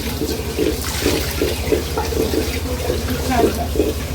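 Rice being washed in water for cooking, a steady splashing and swishing of water running continuously and fairly loud throughout.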